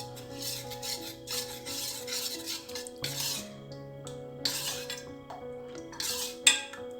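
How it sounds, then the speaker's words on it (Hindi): Hair oil ingredients mashed and stirred together in a bowl for homemade protein-rich hair oil, giving steady scraping and rubbing strokes with occasional clinks of a utensil against the bowl, close up, with no voices. "इसीलिए मैं इन दोनों को मिक्स कर रही हूँ। इनको अच्छी तरह से मैश करेंगे।"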